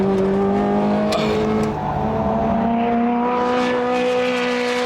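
A Ferrari supercar with an F1-derived traction control system runs on a track in race mode, its engine a loud steady high drone with rising and shifting tones, heard from on board and without talk.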